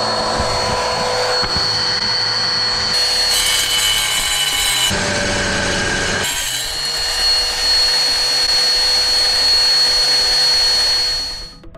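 A sphalerite rock specimen is cut with a power saw, the blade grinding steadily through the stone for nearly twelve seconds, loud and close, with a brief change in pitch midway before the cut winds down.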